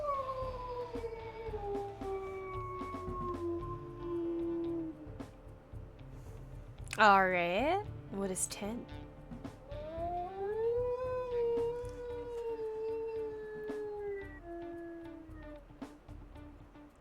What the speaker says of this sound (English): He has some pretty powerful sounding howls.